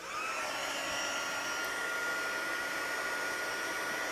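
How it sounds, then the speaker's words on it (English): A stamping heat tool set to level 2 runs with a continuous, even blowing roar as it heats up. It is close, with no talking over it. "Getting ready to turn the heat tool on, so plug your ears or turn the volume down"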